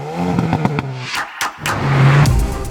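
Hyundai Kona N exhaust blipping through a rev, with harmonic engine tones that rise, drop away briefly, then return as a strong, close, sustained roar.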